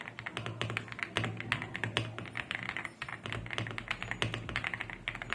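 Fast, steady typing on a mechanical computer keyboard, an Ajazz AK820 or Lingbao K87, with dense rhythmic clacky keystrokes heard up close at moderate volume and no talk.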